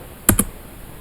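A couple of sharp keystrokes on a computer keyboard while entering overtime hours into a program, two quick taps close together in a quiet room.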